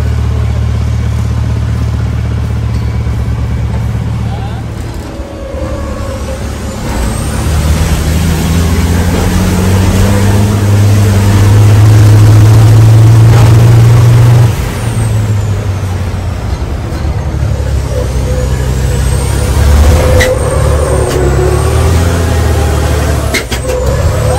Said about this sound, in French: qui va m'offrir mon baptême en camion de course